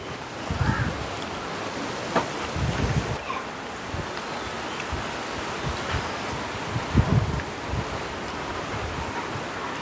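Wind blows steadily outdoors in Jaffna, buffeting the microphone in low rumbling gusts with a broad airy roar, loudest in a few brief surges.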